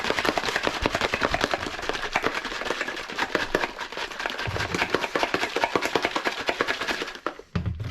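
Plant-based protein powder and almond milk rattling in a shaker bottle, a loud, rapid, continuous sloshing and knocking rhythm kept up for several seconds before stopping abruptly.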